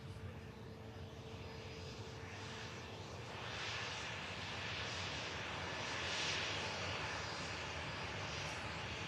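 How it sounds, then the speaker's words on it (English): A Boeing 787 Dreamliner of IndiGo, operated by Norse and arriving from Delhi, lands at Manchester Airport: a steady, broad engine roar that swells slightly toward the middle of the approach, heard alone without talk. "Next to land is a 787 Dreamliner with Indigo, operated by Norse, coming in from India"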